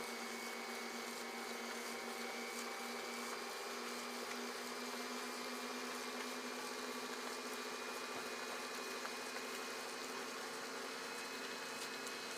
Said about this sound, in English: We're going to add it while the mixer is mixing on low.